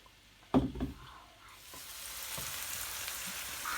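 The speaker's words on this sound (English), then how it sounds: "So after the onions have actually fried in for some time, and it's become a little bit brown" Onions frying in a pan with salt for a Chettinad chicken curry: a soft sizzle that swells steadily after a couple of knocks and stirring clatters near the start, no one talking.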